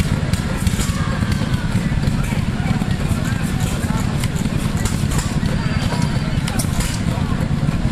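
An antique Briggs and Stratton engine at an outdoor engine show in Canfield, Ohio, fires but fails to start, giving a steady low rumble with uneven pops over a busy, noisy background.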